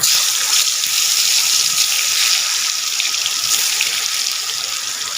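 Pumpkin slices coated in turmeric and salt fry in hot oil, a loud, dense and unbroken sizzling hiss held close throughout, with no speech.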